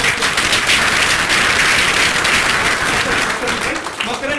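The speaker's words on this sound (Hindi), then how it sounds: "जोरदार तालियां बजनी चाहिए" Loud, dense applause from a student audience at a group discussion and interview training session at SSBT Jalgaon, many hands clapping steadily and close for the whole stretch.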